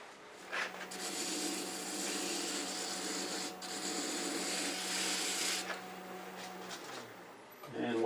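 Sandpaper runs against a wooden hair stick spinning on a lathe, making a continuous close hiss and rasp over a steady motor hum, with a brief voice-like sound partway through.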